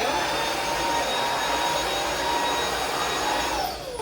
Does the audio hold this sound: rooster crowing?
no